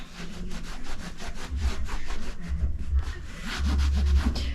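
Repeated rubbing and wiping strokes on old, dirty leather chaps during cleaning, close and fairly loud, back-and-forth in a steady rhythm with no talking.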